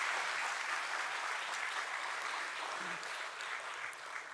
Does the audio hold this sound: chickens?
no